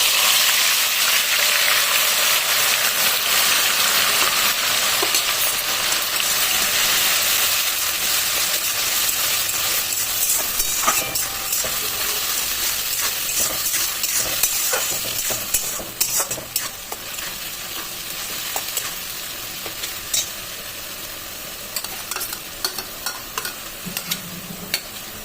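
Roughly three or four large onions' worth of onion paste fries in a pan for chicken kosha, a steady close sizzle broken by occasional scrapes and clinks of a stirring spoon, with no one talking.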